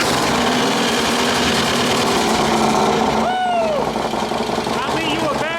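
A Harley-Davidson Road King engine cranks and churns on starter fluid, a continuous loud mechanical grinding and whirring, while people talk excitedly over it and a voice rises near the end.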